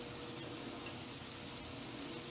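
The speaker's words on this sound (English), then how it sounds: "And you can hear it sizzling" Chopped carrots, celery and onion frying in a pan give a steady, soft sizzle throughout, close and even, with faint utensil clinks and no talking.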